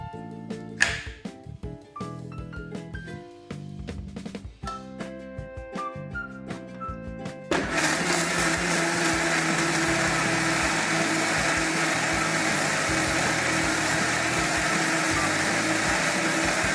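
A blender grinds avocado, cashew nuts and milk, roaring in loud and steady after a stretch of plucked musical notes and light clicks.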